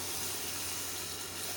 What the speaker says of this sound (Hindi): अब हम शामिल करें इसमें पानी